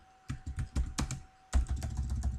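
Quick keystrokes on a computer keyboard entering MATLAB commands such as clc and clear all, in two short bursts of close, crisp clicks separated by a brief pause, with no talking.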